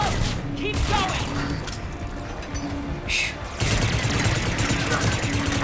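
Low-recoil gun firing in Mass Effect 3 during a hardcore run, with rapid bursts of gunfire popping in short clusters amid a busy, loud battle background and intermittent distant booms.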